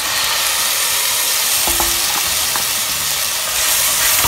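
Chopped tomatoes tipped into browned onions frying for a black-eyed bean masala curry, a loud continuous sizzle and hiss with a few clinks and scrapes partway through, no voices.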